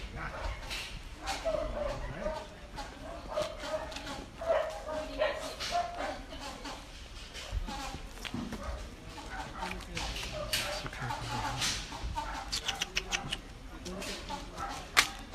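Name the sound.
dogs barking after release from truck cages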